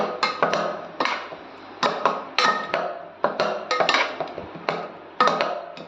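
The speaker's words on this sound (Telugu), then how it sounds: "ఇలా దాన్ని ఫుల్గా మంచిగా కలుపుకోవాలి" A spoon scraping and knocking against a metal pot or bowl while lemon juice is mixed into cooked rice for lemon pulihora, irregular sharp clinks repeating close by, with no talking.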